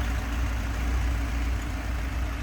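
Steady, even idle from a 1978 Fiat 124 Spider's 1.8-liter four-cylinder engine, a close, smooth low rumble with no voices over it.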